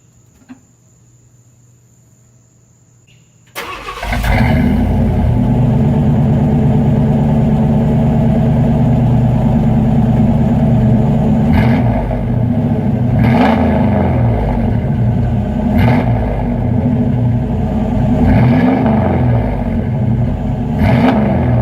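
A quiet hum, then a Chevrolet Blazer engine with dual exhaust cranks and roars to life, settling into a deep, loud rumble with several sharp revs rising over it.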